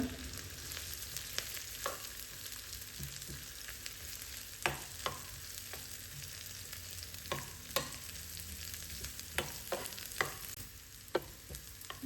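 Onions browning in a pan for a prawn curry, a soft continuous sizzle punctuated by scattered sharp scrapes and clicks of a spoon stirring, irregular and close, with no voices.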